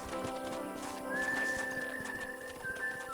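Horse hooves clip-clop in the video game Red Dead Redemption, a faint, steady rhythm of soft taps beneath a quiet musical bed, with a thin whistle-like tone gliding across the middle.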